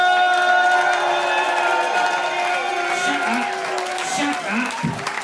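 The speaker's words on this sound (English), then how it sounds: "Please give a big round of applause to he, they, them, she, the Hate Monster!" A live audience bursts into sustained applause and cheering with whoops as a comedy show introduces a costumed hate monster puppet character, loud and continuous throughout.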